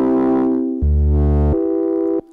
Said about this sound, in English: then I add a low pass on top of it